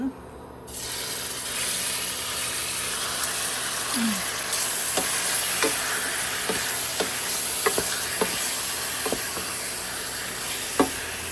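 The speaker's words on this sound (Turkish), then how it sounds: "Tenceremizin içine biraz sıvı yağ koymuştum. Onun üzerine etimi koyuyorum." Meat sizzles steadily in hot oil in a pot, a loud continuous crackling hiss with occasional scraping stirs, no talking.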